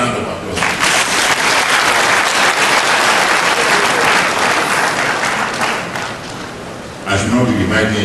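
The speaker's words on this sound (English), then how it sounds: "Another round of applause." An audience at a university inaugural lecture bursts into loud, dense applause that fills the room, dips briefly, then swells again near the end.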